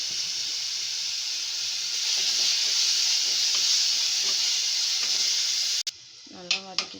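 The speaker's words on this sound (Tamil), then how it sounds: "அந்த பச்சை வாசனை போகிற அளவுக்கு வதக்கிக்கணும்." Ground onion paste sautés in a pan, giving a steady, moderate sizzle and hiss with faint stirring scrapes, ending in a short break and a few brief sounds.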